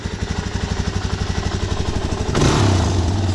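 A motorcycle with a stock exhaust idles with a steady, lumpy pulsing beat, then revs up into a louder, rising roar near the end. The engine is close and heard alone.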